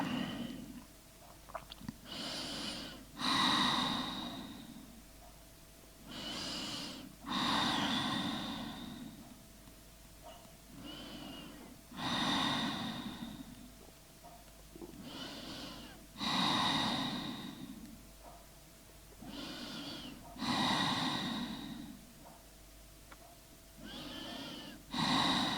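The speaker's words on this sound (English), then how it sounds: "Take deep breaths." Slow deep breaths taken in a wide-legged yoga forward fold, each long inhale and exhale close and clearly audible, repeating in a steady rhythm about every four to five seconds with quiet pauses between.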